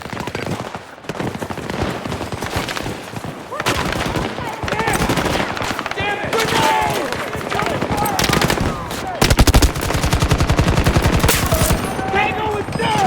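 Sustained gunfire in a Call of Duty match: dense automatic bursts and overlapping shots with explosions, loud and continuous, while voices shout over the din.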